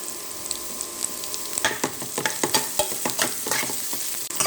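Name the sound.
stirring peas and carrots frying in oil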